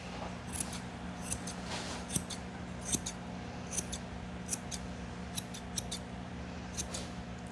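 Scissors snip through a Shih Tzu puppy's hair in quick, irregular bursts of crisp metallic clicks, close and fairly faint against quiet room tone.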